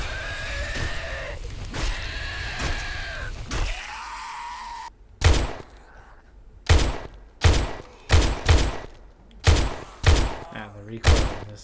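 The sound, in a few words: gunfire from a video game gun with heavy recoil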